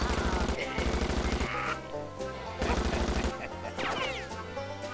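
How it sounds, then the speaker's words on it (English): Machine gun fire in the Wii game Chicken Shoot, with repeated rapid bursts of loud rattling shots over game music and effects. "How do I still have my machine gun?"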